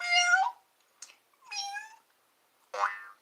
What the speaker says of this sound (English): There's the kitty cat.